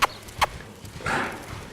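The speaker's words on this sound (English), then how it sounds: "Try to be mindful of your horse's footfall" Two crisp hoof beats of a horse being lunged ring out near the start, followed by a softer shuffling sound, all fairly quiet in an otherwise calm outdoor setting.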